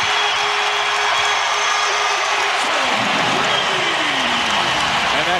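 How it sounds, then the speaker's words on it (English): Crowd in a basketball arena at an NBA Western Conference Finals playoff game between the Spurs and the Suns, a loud sustained roar of cheering and applause swelling steadily throughout. "And that crowd you spoke over a few minutes ago, Bill, is coming back alive"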